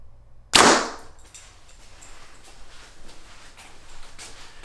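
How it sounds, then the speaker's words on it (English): One arrow shot from a BEEREAL V3 compound bow, heard as a single sharp, loud snap and thrum at close range, then a quiet tail of faint handling noise. "Shoot it one more time for a little farther away."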